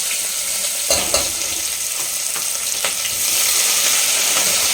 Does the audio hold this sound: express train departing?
no